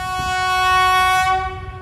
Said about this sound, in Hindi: सेकंड डिपार्चर विसल के साथ अब